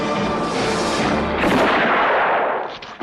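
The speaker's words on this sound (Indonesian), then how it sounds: "Satu tembakan Blondie membunuh Angel S" A single loud gunshot in a three-way western film duel, a sharp boom with a long rolling echo that fades over about three seconds, with no talk.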